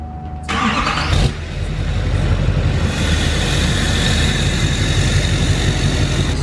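A 2012 Duramax LML diesel truck engine with its stock muffler, before straight piping, starts up with a sharp burst and settles into a loud, steady rumbling idle close by, with no talk.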